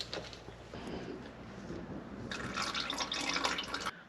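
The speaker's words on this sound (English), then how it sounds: "Let's loosen and drain this tweaked oil filter." Motor oil drains from a loosened, damaged car oil filter, a faint trickle that swells into a steadier pouring splash toward the end.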